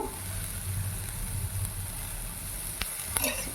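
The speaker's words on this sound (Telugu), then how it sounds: "బాగా వేగాల కాస్త మగ్గాలి క్యారెట్" Carrot pieces frying in oil in a pan for a carrot pachadi, a low steady sizzle with a couple of brief utensil clicks near the end.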